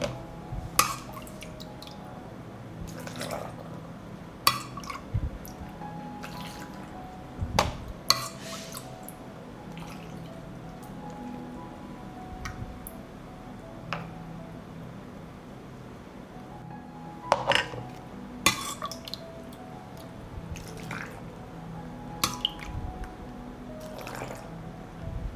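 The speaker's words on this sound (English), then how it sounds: "I will pour the dressing into the jars to cover the tomatoes." Vinegar dressing poured into jars of tomatoes, a soft liquid trickle with scattered drips, light clinks and squishy taps of glass throughout, close and fairly quiet.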